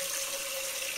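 Water runs steadily from a kitchen tap into a cooking pot being filled for pasta, a continuous close hiss with a faint steady tone and no talk over it.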